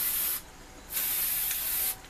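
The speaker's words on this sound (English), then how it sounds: "maybe easier with a better spray paint" Two bursts of hissing spray from an aerosol can, each about a second long, separated by a short pause, close and steady.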